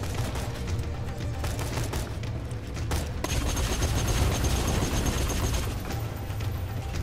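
Gunfire in the video game Borderlands 2, aimed at a wall: a dense, continuous fusillade of shots with booming impacts, loud and close, with no talking over it.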